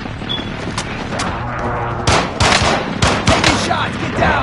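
Rapid gunfire crackles in a Warzone video game match, starting with scattered shots and building into dense bursts of automatic fire that stay loud and close.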